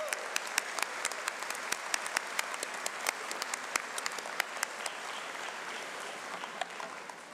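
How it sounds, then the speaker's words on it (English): A large graduation audience applauds steadily for family, friends, faculty and staff, dense clapping filling the hall throughout with sharp individual claps standing out. "I hope you'll stand up and give our friends, family, faculty, and staff a round of applause."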